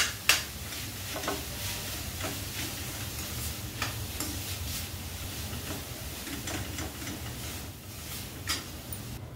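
Jaggery and mawa modak filling stirred in a pan, soft sizzle under a run of light, irregular spatula ticks and scrapes against the metal, fairly quiet with no speech.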